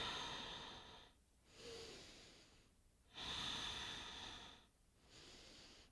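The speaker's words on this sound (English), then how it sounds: "I'm trying to breathe extra loud so that you can hear that coordination" Loud, deliberate breathing during a guided exercise session, slow exhales and inhales alternating in a steady rhythm of about four breath cycles, close and fairly quiet, with no talk.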